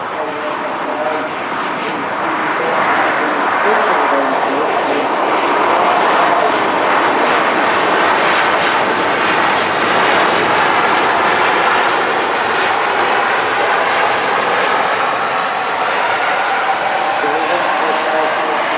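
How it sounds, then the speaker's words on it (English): An airliner rolls out along the runway at Manchester Airport, a loud steady roar of engines and rushing air sustained throughout, with a commentator speaking over it. "He's using a lot of runway there to roll out."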